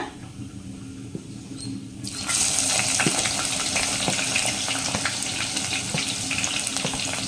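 Food sizzles and crackles in hot oil, starting softer and then jumping louder as more goes into the pan, a steady popping fry throughout.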